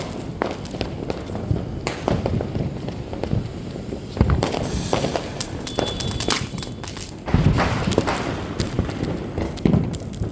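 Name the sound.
Diwali firecrackers bursting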